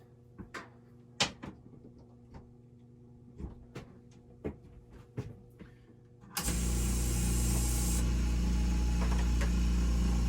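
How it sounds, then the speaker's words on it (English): A Makita MAC100Q air compressor clicks and thumps a few times, then starts abruptly at about six seconds and keeps running with a loud, steady motor hum to the end. "Such a quiet air compressor."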